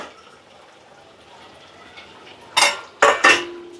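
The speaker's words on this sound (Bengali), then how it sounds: "আমি এখন ভেজে রাখা মাছের মাথাটা আগে দিয়ে দিচ্ছি।" Fried fish heads go into a pan of sautéed spice paste for a Bengali cabbage dish: a quiet kitchen background, then three sharp clattering impacts of metal and sizzling at the end as the pieces are added.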